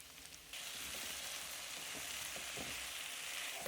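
Okra and potatoes fry in a pan and get stirred, giving a steady, fairly loud sizzle. It swells suddenly after a quieter start, and soft scraping stirs break through it now and then.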